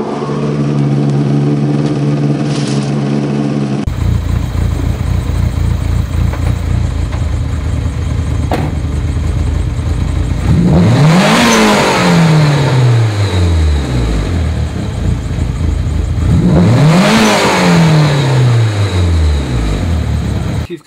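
A car engine idles, then is revved hard twice with the clutch pushed in, each rev climbing sharply toward high RPM and falling back, loud and close, with steady idling between the revs and no speech.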